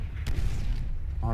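A grenade blast in the video game Call of Duty: World at War, a loud burst of gunfire-like booms over constant battle rumble, with a voice speaking near the end.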